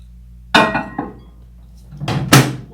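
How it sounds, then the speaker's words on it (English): A microwave door is shut with a sharp close-range clunk and a couple of lighter knocks in a kitchen, followed by a second cluster of clattering thumps, with no talking. "I am going to put it back in the microwave for just another short burst."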